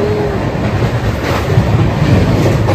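A passenger train at Tamluk station makes a loud, close, rumbling low roar with a brief wheel squeal at the start and a slight swell in the middle, and no talk.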